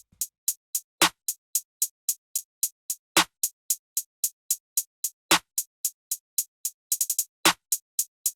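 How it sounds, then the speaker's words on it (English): Crisp hi-hat ticks from an FL Studio pattern in a steady rhythm, with quick roll-like bursts near the end and occasional deep bass hits underneath, loud and close. "So this bass hi-hat by itself sounds something like this."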